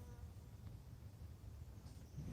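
A bee buzzes faintly close by on a weed in a spring garden, a soft continuous insect drone with light background noise.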